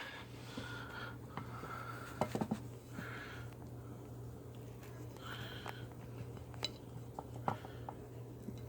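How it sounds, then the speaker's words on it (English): Knife slicing chimichangas on a plate for a chimichanga pizza gives faint, scattered clinks and scrapes over a steady low hum in a quiet kitchen. "slice the chimichangas down the middle as seen"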